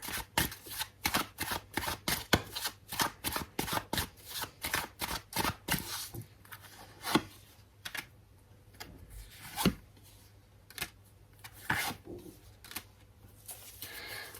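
Tarot cards are shuffled by hand up close. Rapid, rhythmic riffling clicks fill the first half, then give way to sparser, irregular card snaps and taps.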